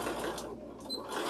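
A sewing machine stitching improv-pieced quilt panels runs in a steady, continuous whir at close range for a moment, with no talking.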